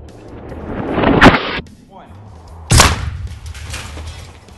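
An air cannon fires a projectile through five stacked VHS tapes: a sharp, loud blast near the start, then a second heavy impact-like burst about a second and a half later, with a rustling background between them.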